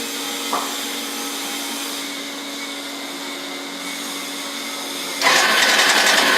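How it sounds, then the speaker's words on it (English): A Yamaha FZ16 motorcycle engine with 63,507 km turns over and catches near the end, jumping to a louder, steady running roar after several seconds of constant machine hum. "Now I'll start the engine."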